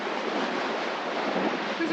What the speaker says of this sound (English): these are pretty decent sized waves.